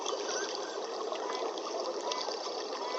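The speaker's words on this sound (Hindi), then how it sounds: "कहीं से बहते हुए झरने की आवाज।" A waterfall heard outdoors on a morning: a steady, even hiss of rushing water, moderately faint and continuous throughout, with no voices.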